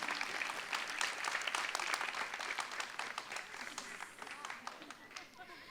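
Audience applause at a dance evening, a full round of clapping from a seated crowd that starts strong and gradually thins and fades over several seconds, with some voices mixed in.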